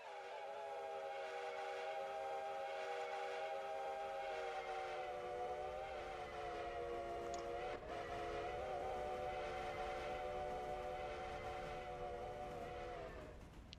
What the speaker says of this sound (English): That is a whistle.